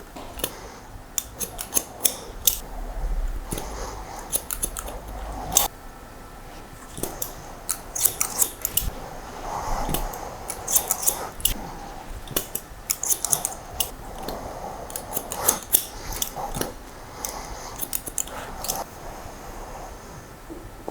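Scissors snip steadily through longer hair during a tidy-up cut, rapid crisp close-up cuts in irregular bursts with short pauses between, no talking.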